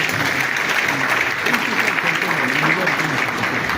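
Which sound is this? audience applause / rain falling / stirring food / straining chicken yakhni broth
audience applause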